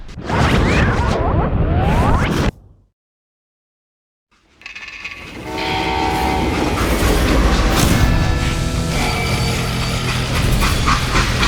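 A freight train in the western video game Call of Juarez Gunslinger rumbles and clatters along the rails. Near-total silence follows for about two seconds, then the train returns with sustained horn-like tones over the running noise.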